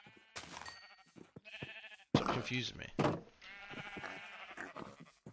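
Sheep in the video game Minecraft bleating several times in short, nasal calls, close and clear, interleaved with a person talking.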